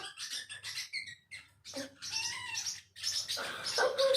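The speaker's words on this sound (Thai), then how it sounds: "อันชันเริ่มร้องได้แล้วเดี๋ยวเสียงมันเข้า" Faint, fragmented chirps and squeaky calls come in short irregular bursts over a quiet, low background hum.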